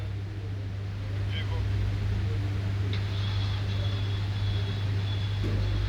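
Mercedes S63 from 2008 with 150,000 km, its engine cranking steadily on the starter during a cylinder compression test, a continuous low drone throughout with a faint high whine, while people talk nearby.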